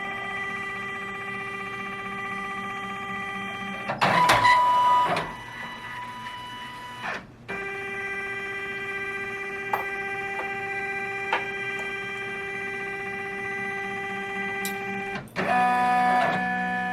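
Embroidery machine stitching a design onto a belt clamped in a belt hoop, a steady mechanical whir with tonal motor hum and rapid needle ticking, broken by a few short clunks and pauses, close and alone.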